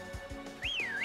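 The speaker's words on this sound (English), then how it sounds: "Oh, that's how you whistle." A short rising and falling whistle tone in the Pokemon Shield video game on Nintendo Switch, clear and fairly loud over faint soft footstep-like thumps and a low background hum.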